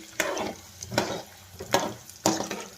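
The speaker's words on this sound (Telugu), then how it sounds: "శనగపప్పు యాడ్ చేద్దాం చూడండి మినపగుళ్ళు యాడ్ చేద్దాం వీటిని కలుపుకుందాం బాగా వేసుకుందాం" Chana dal and urad dal being stirred in a hot pan, four distinct scraping strokes with soft sizzling between them, close and moderately loud, no voices.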